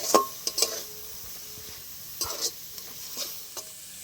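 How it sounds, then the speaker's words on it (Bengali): Spice masala being stirred and sautéed in a pan for a vegetarian elephant foot yam curry, with sugar added. Sparse metal spoon scrapes and clinks against the pan come in uneven bursts over a faint sizzle, with no voices. "এবার আরও ভালো করে কষে নেবো সব মশলা একসাথে।"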